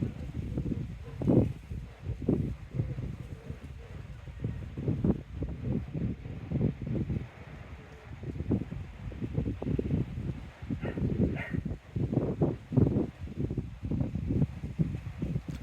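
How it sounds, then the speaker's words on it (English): Wind buffeting a phone microphone outdoors in Teignmouth, Devon, in uneven low gusts that rise and fall throughout. "I think I've found my bit of wind"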